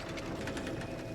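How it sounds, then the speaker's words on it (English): A sewing machine in the video game Clair Obscur: Expedition 33 hums with a fast, even mechanical stitching pulse. It runs steadily at moderate level with a rhythmic clatter and no voices over it. "Yeah, it's literally a sewing machine."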